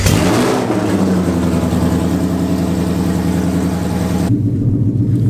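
A Whipple-supercharged Mustang engine firing up for the first time on ethanol, catching with a loud burst, then settling into a close, steady rumbling idle before cutting back abruptly near the end.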